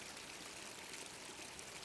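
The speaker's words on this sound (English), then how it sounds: "their own water feature, and lots of noise from this water as well" Garden water feature trickling and splashing steadily in a private garden with ducks, a soft, continuous wash of running water with no voices.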